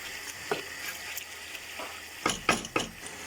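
Chicken pulao mixture for Afghani pulao sizzles in a pan on full heat while being stirred, a steady frying hiss broken by a few sharp scraping strokes near the end, close and moderately loud.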